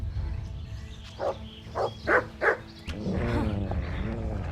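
A dog in the video game Kingdom Come Deliverance barks four times in a quick, evenly spaced series, moderately loud over a low background hum, then whines and growls briefly.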